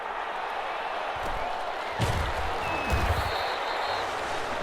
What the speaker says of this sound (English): How about some applause for the defense there?